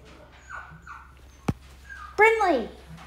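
A pet dog whimpers and whines in a short rising, wavering cry near the end, preceded by faint softer whines and a sharp click, with quiet voices in the background.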